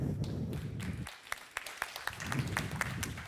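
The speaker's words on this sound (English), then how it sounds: "please give a big applause to smart contract engineer at Delphi Digital, Gabe Rodriguez." Audience applause for a smart contract engineer taking the stage at a tech conference talk, moderate clapping with scattered sharp individual claps as it thins out over a few seconds.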